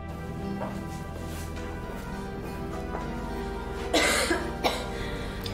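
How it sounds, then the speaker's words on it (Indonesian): A couple of short coughs near the end, fairly close, following a quiet stretch of low background hum. "Kamu kok kerjaannya batuk terus?"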